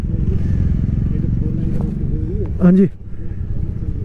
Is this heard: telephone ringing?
no